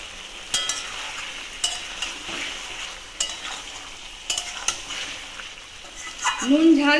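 Fish head and bottle gourd stir-fried in a pan for Bengali lau ghonto, with repeated scraping stirs and clatters of a spatula over a soft sizzle, and a brief voice near the end.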